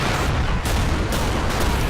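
Mortars firing in rapid succession in the war game Men of War Assault Squad 2, a dense, loud rumbling barrage of overlapping booms and bursts with no talk.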